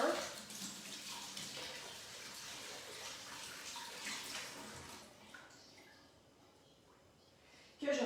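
A paintbrush is rinsed under a running tap, giving a steady broadband water rush for about five seconds that then quietens to a softer trickle, before a brief louder splash at the end.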